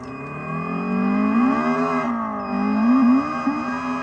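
A vehicle engine revs hard as the accelerator is pressed with the brake held, a loud close roar that climbs and dips in pitch twice, with a faint high whine above it.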